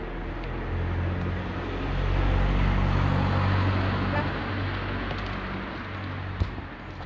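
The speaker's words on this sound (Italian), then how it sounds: "Aspetta che c'è la macchina." A car passes along the road outdoors, its engine and tire rumble swelling to a broad peak midway and then fading, steady and moderately loud with faint background noise.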